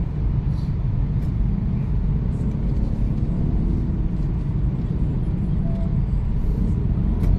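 Dense highway traffic at night entering Marikina City, a continuous low rumble of cars and other vehicles, steady and heard from inside a vehicle, with no talk.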